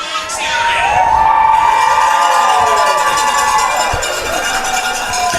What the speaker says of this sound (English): the crowd that's made their way out west is liking that one